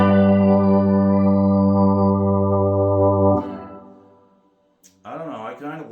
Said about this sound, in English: A nice good reverb too